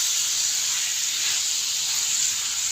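Chopped tomatoes and green chillies hit a hot pan for a bhindi masala, giving a steady, bright sizzle that holds evenly throughout without a break.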